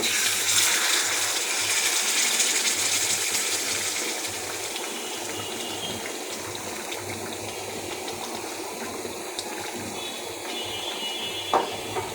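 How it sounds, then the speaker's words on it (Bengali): Hot water poured into a pot of beef curry cooked with cow's trotters, a steady rushing gush that is loudest at first and then settles into a softer continuous flow, with no talking. "এবার আমি একটু মাংসে গরম পানি দিয়ে দিব"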